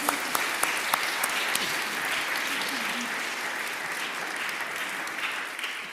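A congregation applauds during a church service, steady broadband clapping that holds evenly for several seconds, fairly loud and close, with no talk over it.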